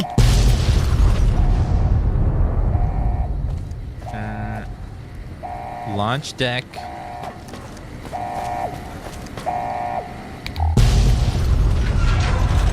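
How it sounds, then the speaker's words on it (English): Explosions in the video game Fallout: New Vegas, Lonesome Road DLC, come as heavy booms at the start and near the end. Between them, a repeating electronic alert beeps and a warbling mechanical sweep sounds, and a synthetic voice announces something. "those explosions are crazy"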